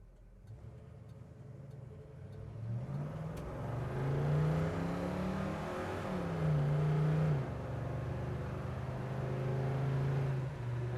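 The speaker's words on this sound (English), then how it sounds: "let's run through a couple gears here" A 1967 Chevrolet Chevelle SS pulls through its gears in morning traffic, the engine note climbing, dropping at each shift, then rising again, heard steadily from inside the car.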